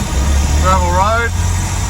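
A Land Rover Series 1 drives along a gravel road near Mystery Bay, south of Narooma, its engine a steady low drone close by, with a brief voice partway through.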